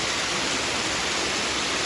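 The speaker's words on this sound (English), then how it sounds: "got a nice wide waterfall up top" A wide waterfall at a 9/11 memorial pours in a dense, loud, unbroken roar of falling water, heard up close without any voices.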